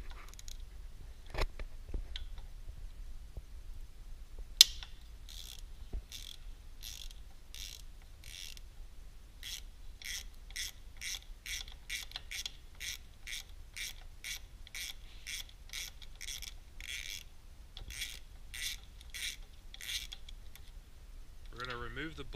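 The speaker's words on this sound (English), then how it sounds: "we're going to take a 9/16 socket and ratchet, and we're going to loosen the three bolts that are on the regulator itself" Quiet, rapid clicking of a 9/16 socket ratchet loosening the regulator bolts on an R2020 pump, in steady bursts of ratcheting strokes with short pauses between.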